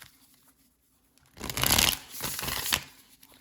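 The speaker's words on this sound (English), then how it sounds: "give me a second to shuffle" Tarot cards being shuffled nearby in two quick bursts of riffling and flapping after a brief quiet pause, with no talking.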